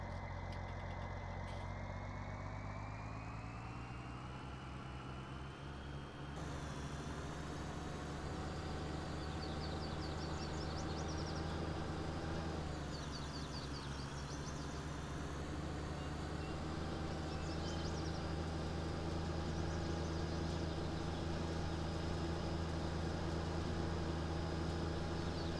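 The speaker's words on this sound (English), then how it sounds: "This really is a nice tractor." A 7810 tractor's engine in Farming Simulator 19, on the Greenwich Valley map with Seasons, runs as a steady, even mid-pitched drone with a faint knocking texture, quiet and unbroken throughout with no talking.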